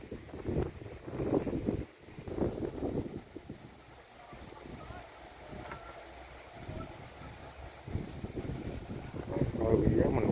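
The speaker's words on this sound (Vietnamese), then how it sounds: "Này gió quá mạnh luôn" Strong wind gusting across a microphone while flying kites outdoors, rumbling in uneven surges that swell and fade, with faint indistinct voices beneath.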